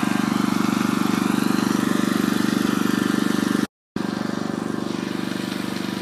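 A petrol generator engine converted to run on gas idles steadily and loudly with an even, close mechanical drone, broken by one brief silent gap before it carries on unchanged.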